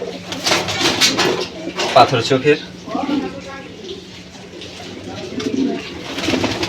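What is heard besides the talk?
racing pigeons cooing in loft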